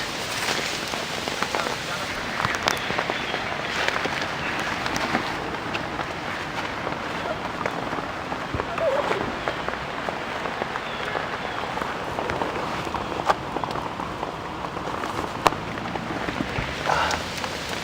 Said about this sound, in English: I mean, it is actually raining right now.